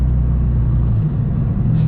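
A 600-plus wheel-horsepower BMW 335xi with a six-speed manual and 17T turbos cruises along, its engine a loud, steady low rumble heard from inside the cabin, with no talking.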